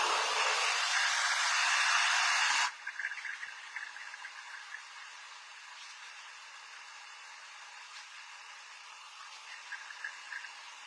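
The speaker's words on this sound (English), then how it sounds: "But I'll also put the nozzle on the blow dryer." A blow dryer fitted with a nozzle blasts a loud, steady hiss while drying hair after a razor-cut short layered bob, then cuts off abruptly after about three seconds, leaving faint quiet background.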